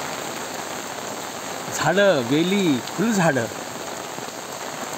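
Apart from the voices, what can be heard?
heavy monsoon rain falling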